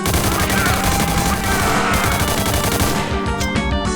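A burst-fire weapon fires in a first-person shooter game, with rapid clustered shots blending into a dense, loud barrage of gunfire and explosive impacts that cuts off abruptly near the end.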